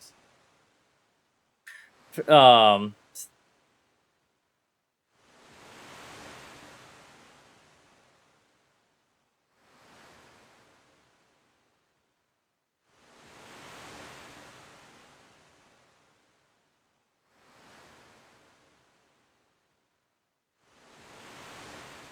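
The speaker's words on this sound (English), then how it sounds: "Just enjoy the beautiful waves." Ocean waves in the video game Final Fantasy 5 swell and recede in soft, slow surges with quiet gaps between them, following a brief louder sound at the start.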